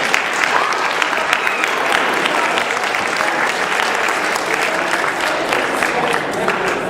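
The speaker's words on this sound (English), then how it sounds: "you all ought to give yourselves a big round of applause for what you've done" Audience applause fills the room at a science olympiad awards ceremony at East Georgia State College, a dense, steady clapping that carries on loud and unbroken for several seconds with no other voices standing out.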